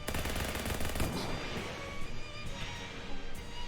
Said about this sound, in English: I'ma shoot it a second time for fun